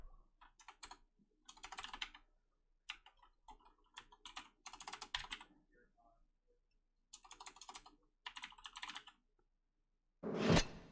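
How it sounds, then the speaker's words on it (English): Bursts of computer keyboard typing come in several clusters of rapid clicks with pauses between, heard during play of the puzzle game Shivers, ending with a louder, fuller sound. "You can apparently just use your keyboard there,"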